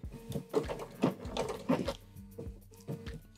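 A sewing machine backstitches across a quilt in short, uneven bursts of mechanical whirring and clacking. Each burst starts and stops abruptly, heard close up with no talking.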